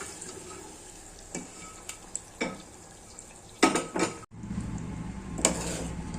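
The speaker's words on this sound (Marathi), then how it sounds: "आता आपण याच्यामध्ये चेने टाकून घेऊया" Chickpeas tipped into a tomato gravy in a pan and stirred, giving close scraping and clinking of a spoon against metal over a low simmering sizzle, with a few louder knocks near the middle.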